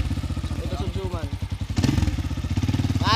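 A lowered motorcycle's engine runs with a steady pulsing thrum close by, revving briefly, while people talk over it.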